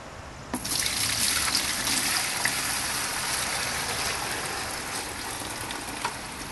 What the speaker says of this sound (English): I'm going to pour all of this back into this bucket